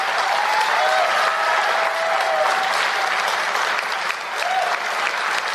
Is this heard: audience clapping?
yes